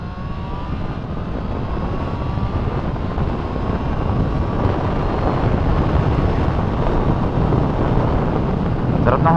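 Continuous, loud rush of wind buffeting the microphone while riding a big motorcycle, a steady roar with no pauses, heard throughout.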